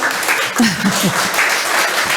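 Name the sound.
audience applause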